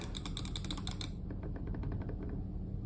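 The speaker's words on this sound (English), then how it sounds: "here are the button clicks on the side" Side buttons on a Logitech mouse, such as the M720, click in a quick run of crisp, close, fairly faint taps, a faster burst first and then a slower, lighter series.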